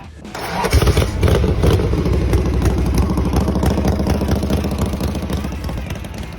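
Classic Harley-Davidson Shovelhead motorcycle engine running loud and close, a steady lumpy unfiltered throb with clattering mechanical texture throughout, no voices.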